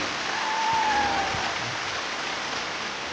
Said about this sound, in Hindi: ये पहला झरना है